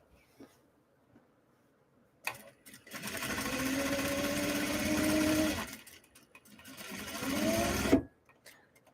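A sewing machine runs steadily for several seconds while a bobbin is being wound, stops briefly, then runs in a shorter second burst, all close and fairly quiet, with no talking.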